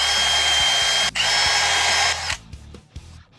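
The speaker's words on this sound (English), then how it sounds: "then drill 2 pilot holes" A power drill with a 3/32-inch bit boring pilot holes in a wooden board whines steadily at high speed, pauses briefly, runs again, then winds down into a few short bursts.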